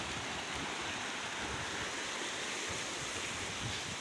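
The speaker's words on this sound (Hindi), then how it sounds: "ये पुल के नीचे से पानी यहाँ पे आ रहा" Clear water rushes out from under a bridge at Shahdara Point near Islamabad, a steady, close, unbroken roar of flowing water with no voices over it.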